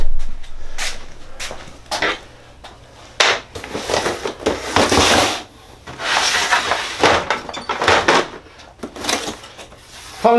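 Drawer of a Festool MW 1000 mobile work station being slid and handled during assembly, a series of short scraping and rubbing strokes with knocks, close and distinct, separated by brief quiet pauses.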